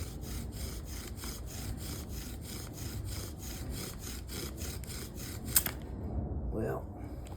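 A bow drill spins a yucca spindle against a cottonwood hearth with a fast, rhythmic back-and-forth grinding rasp, close and steady, before a sudden snap and quiet.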